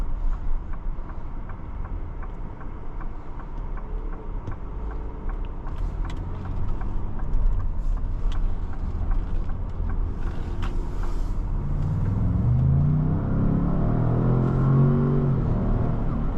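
A 2025 Lincoln Navigator L Black Label accelerating on a test drive, a low steady engine rumble heard from inside the cabin that swells as it picks up speed near the end.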